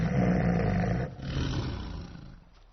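A Siberian tiger lets out a loud, deep roar that holds steady for about a second, then trails off into a softer, rumbling growl that fades out.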